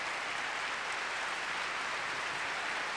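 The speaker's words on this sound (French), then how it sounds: "je crois que les applaudissements suffisent" An audience applauds after a speaker is introduced at a French political gathering, steady dense clapping filling the room evenly and loudly throughout, with no voices rising above it.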